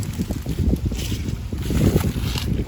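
Wind gusting outdoors in a backyard garden, a steady low rumble and buffeting against the microphone that rises and falls throughout, with no talk.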